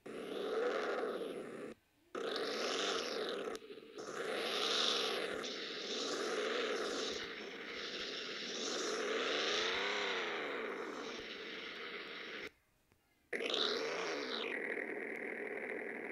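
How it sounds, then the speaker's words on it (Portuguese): A car exhaust revs in the Rebaixados Elite Brasil driving game, repeated loud rising and falling engine swells with brief cutoffs between bursts, close and alone. "É o escapamento."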